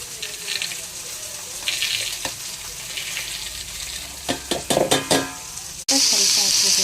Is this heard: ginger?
yes